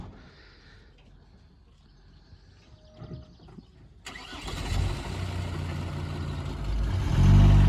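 A car loaded with supplies cranks and catches at close range, jumping from near quiet into a steady engine rumble that keeps building toward a louder rev, with faint birdsong before the start.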